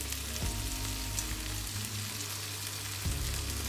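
Meatballs sizzling in a pan, a constant close crackling fry with a low hum underneath and a couple of soft bumps as they are shifted, no talking.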